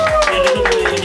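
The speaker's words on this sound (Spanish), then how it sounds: "Un aplauso." An audience claps in brisk, rhythmic bursts during a televised Christmas show, the clapping running over a sustained, gliding vocal tone.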